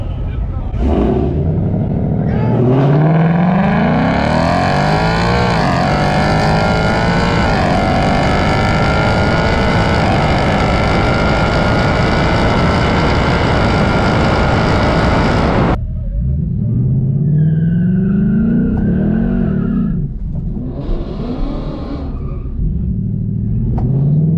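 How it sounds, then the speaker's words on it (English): A 2024 Ford Mustang GT V8 on all-season tires does small burnouts at a dragstrip, its engine roaring loud and steady for about twelve seconds before cutting, then revving in short bursts up close. "Still a good tire, I'm hooking up pretty well. I'm doing small burnouts."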